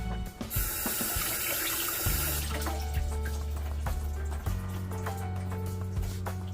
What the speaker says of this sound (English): just to run the water over it